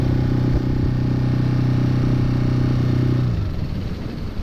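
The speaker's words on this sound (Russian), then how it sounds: "Моторчик, конечно, силен." A Mercury ME F 5 M outboard motor on an inflatable PVC boat runs steadily and loudly with a droning, buzzing hum, then eases off slightly toward the end.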